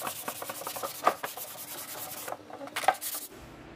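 Hand sanding of a resin and fiberglass part with 220-grit sandpaper, a steady rhythmic scratching of repeated close strokes that pauses briefly near the end.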